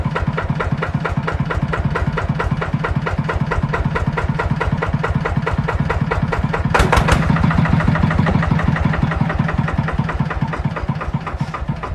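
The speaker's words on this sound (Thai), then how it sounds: "เครื่องเดิมนะคะเสียงยังแน่นอยู่เลย" Yanmar TF160LE single-cylinder diesel engine idling close up, a loud, even rapid knocking chug that holds steady with a brief clattering burst partway through, no voices.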